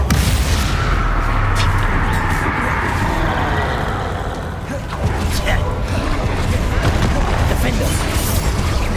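Confringo blasting spell in Hogwarts Legacy, a loud, sustained roar of fiery explosive rumble with crackling bursts running through the whole stretch, dipping briefly midway before surging back.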